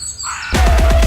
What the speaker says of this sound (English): My neighbors are crows. They can be pretty loud.